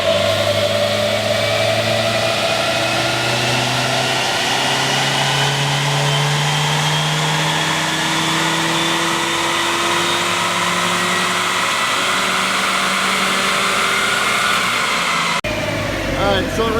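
Nissan Juke with a short ram intake revving hard on a dyno, one long continuous loud pull whose engine pitch climbs steadily before cutting off abruptly near the end.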